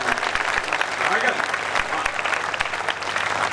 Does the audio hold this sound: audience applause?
yes